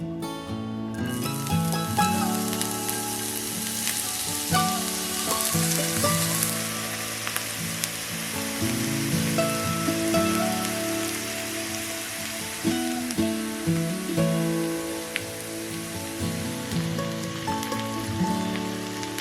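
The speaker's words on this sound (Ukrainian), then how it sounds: "Їх ми будемо підсмажувати на сковорідці до золотистого кольору" Onions sizzle and crackle steadily in a hot frying pan as they cook to golden, a continuous bright hiss with occasional clinks of utensils.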